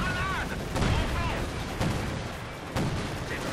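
Gunfire in the World War II strategy game Company of Heroes 2, several sharp shots and bursts spaced across the moment, mid-distance, with someone talking in French over the battle.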